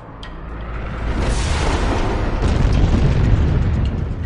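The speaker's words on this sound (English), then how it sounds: "The relentless bombardment destroys the new planet's crust almost as soon as it forms." Deep rumbling blast effect of asteroids bombarding the early Earth's forming crust, a loud, sustained low roar that swells after the first second and stays heavy to the end.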